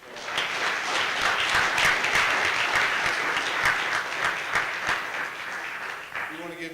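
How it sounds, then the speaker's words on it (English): Audience applause at a progressive church gathering marking the MLK 50th anniversary: sustained, fairly loud clapping with distinct sharp claps popping through the wash. It tapers near the end as a voice starts to come in. "Let's give them all another round of applause."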